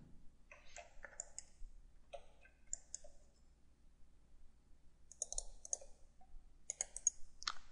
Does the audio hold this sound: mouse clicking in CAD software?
yes